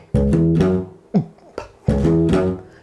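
Bass guitar plays a sparse reggae line, with a few round, deep plucked notes separated by gaps and a short slide, close and clear with no talking.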